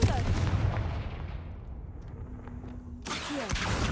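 A Confringo fire spell explosion in Hogwarts Legacy bursts loud and broadband at the start, rumbling and decaying over a few seconds before a second sharp blast hits near the end.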